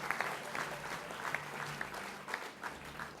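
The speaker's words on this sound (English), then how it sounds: "Give her a round of applause" Applause from an audience at a sports media awards night honouring a lifetime achievement winner, a steady wash of many hands clapping with scattered sharper claps throughout.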